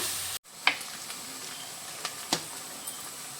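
Onions frying in a pan for a Konkani-style mushroom masala, a steady soft sizzle with a few sharp stirring clicks and scrapes, close and alone.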